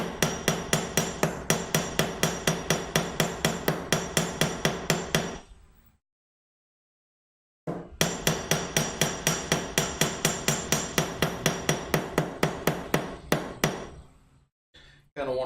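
A hammer drives into wood while a shadow box is built: rapid, evenly spaced taps hammered in a long run, a brief silence, then another steady series ending in a few scattered knocks.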